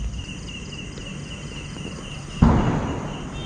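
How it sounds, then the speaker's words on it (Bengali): Crickets chirp at night in a steady, unbroken high trill, with a sudden low thud breaking in near the end; no voices are heard. "ঝিঝি পোকার সাউন্ড শোনা যাচ্ছে।"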